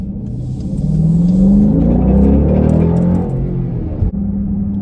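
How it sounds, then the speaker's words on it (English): A new Dodge Durango SRT's engine roars at full throttle, a deep rising exhaust rumble that swells and then settles into a steady drone. "I'm going to show you right now just how the exhaust sounds when you are full throttle."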